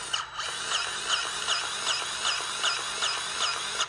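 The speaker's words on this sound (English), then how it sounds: "Got a nice battery grease gun." A battery-powered grease gun whirs at close range while it greases the pitman arm on a Jeep, its motor pulsing in a steady repeating rhythm with high squealing tones. No voices are heard.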